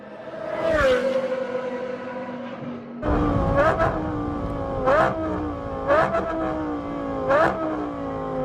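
Inside a performance car, the engine revs up hard, then blips repeatedly through a series of downshifts, each rising whine cutting off sharply, loud and close throughout.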